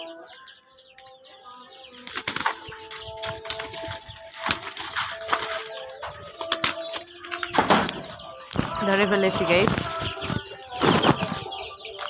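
A pigeon beats its wings in loud, close bursts of flapping as it is grabbed at a pigeon loft, the frantic flutters coming in irregular clusters while someone speaks briefly.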